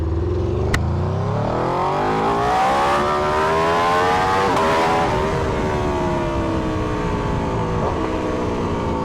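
An XTrenta car on slicks revs hard on a track, its engine note climbing steadily through the gears with a brief dip and pickup, loud and close with no talk.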